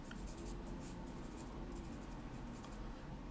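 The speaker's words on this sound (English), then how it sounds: "Gonna do a little sketching." Pencil sketching an eye on paper in an art studio: a steady, continuous scratchy rubbing of graphite strokes close up, with no pauses and no talking.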